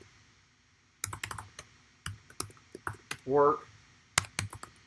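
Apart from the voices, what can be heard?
typing on a computer keyboard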